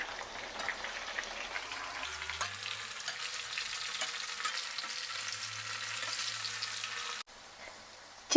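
Pieces of chicken fry in a hot pan and are stirred and turned, producing a steady close sizzle with scraping and shifting sounds throughout, without talk, ending in a sudden loud bump.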